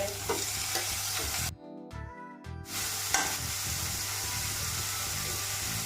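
Sliced onions and coriander stems are fried in a pan and stirred, giving a steady close sizzle with scraping, briefly broken by a moment of near silence and a few metallic clinks before the frying resumes.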